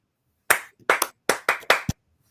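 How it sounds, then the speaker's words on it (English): One person claps in a showy rock-frontman style on a podcast, roughly seven sharp, close hand claps in an uneven, syncopated rhythm with short pauses and nothing else around them. "I got to do the Mick Jagger clap for you."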